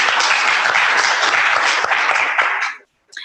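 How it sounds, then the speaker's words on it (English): Loud, dense applause from a conference audience for panelists discussing Africa's domain name industry, steady for over two seconds, then cutting off abruptly into silence before a brief final burst. "I think that deserves a round of applause"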